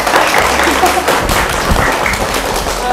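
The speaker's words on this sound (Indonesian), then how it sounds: "Tepuk tangan dong" Loud, close clapping from a crowd of children and adults at a Quran recitation event, dense and continuous with some voices mixed in.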